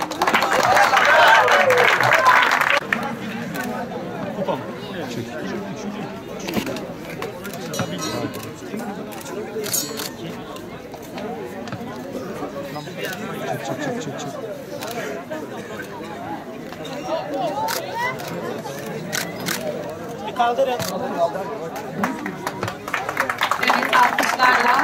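Spectators at a cycling race award ceremony clap while winners pose for photos, a burst of loud applause at the start that thins into scattered claps under crowd chatter, swelling again briefly at the end.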